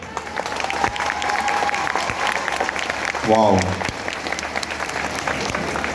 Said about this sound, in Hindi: एक बार आप लोगों की कड़ाकेदार तालियां तो बनती हैं यहाँ